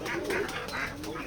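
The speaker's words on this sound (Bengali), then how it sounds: "আমাদের এই খামারে অনেকগুলো কবুতর আছে, দেখতে পাচ্ছেন।" Many pigeons on a pigeon farm in Jessore, a steady murmur of soft cooing and faint wing movement over constant background noise, with no voices.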